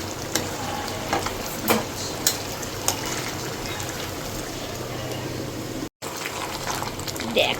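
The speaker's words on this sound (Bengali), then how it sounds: "এবার যেটা করবো, মাংসটাকে না ঢেকে ঢেকে কষাবো" Mutton pieces stir-fried in a pan over a medium flame for a spicy curry, giving a steady close sizzle and crackle with occasional clinks of a spatula, a brief drop to silence near the end.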